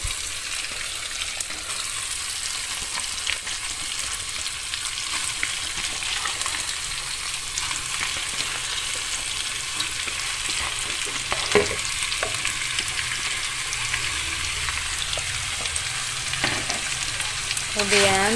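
Chayote sautés in a hot pan for a vegetable lontong dish, giving a steady, close crackling sizzle with occasional faint stirring scrapes throughout.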